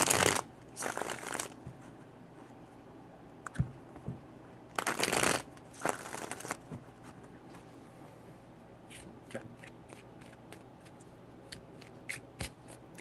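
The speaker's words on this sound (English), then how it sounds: "Three shuffles." Tarot cards being shuffled by hand in several bursts of crisp riffling and flicking, separated by quiet pauses and faint light taps, close and clear.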